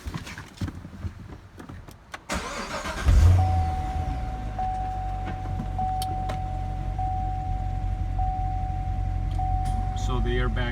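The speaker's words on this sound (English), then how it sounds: "So I'm gonna shut the door, start the car," A Chevrolet Corvette C7 cranks briefly and fires up, then settles into a steady, loud idle rumble with a faint whine; a few clicks and handling noises come just before the start.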